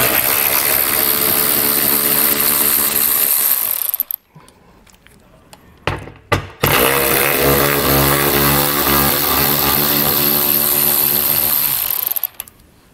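An 8mm socket on a power tool spins out recessed screws on a 2021 Jeep Wrangler, a loud continuous whirring drive from close by that stops briefly at mid-clip, gives a few short bursts, then runs steadily again.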